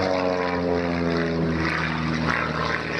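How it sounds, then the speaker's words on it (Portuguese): Two propeller airplanes flying aerobatic maneuvers at an open-water swimming event, a loud droning engine hum with strong steady harmonics and a slowly shifting pitch, continuous throughout. "assistiu ainda a uma sessão de acrobacias aéreas com 2 aviões"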